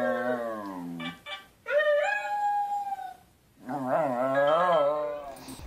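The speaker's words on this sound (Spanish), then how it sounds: "aúllan frente a la cámara para decir lo que quieran a otras mascotas" Several dogs howl one after another, long wavering drawn-out howls close to the camera with a short gap between them, loud and clear with no talking.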